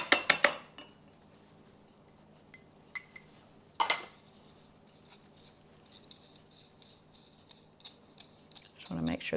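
A spoon stirs a teaspoon of baking soda in a bowl while making thin coconut cookies, giving a few sharp metallic clinks and scrapes spaced apart, with quiet stretches in between.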